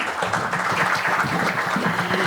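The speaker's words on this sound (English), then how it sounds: "Can we have those claps?" Applause rises from the audience at a panel discussion on sustainability as speakers are introduced, a steady wash of clapping under a faint murmur.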